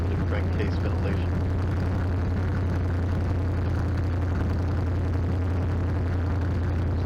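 A boat engine with a crankcase oil leak idles after launch, a steady, heavy, low rumble that holds throughout at close range, with a voice talking over it.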